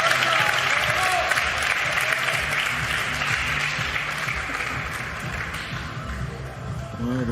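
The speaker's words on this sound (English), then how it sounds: "Wait for the cheers. The crowd are about to erupt." A crowd at a 2022 World Pool Masters last-16 match bursts into sustained applause and cheering, a dense, even wash of clapping filling the room before slowly thinning out.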